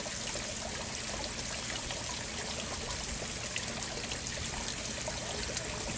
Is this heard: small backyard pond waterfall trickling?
yes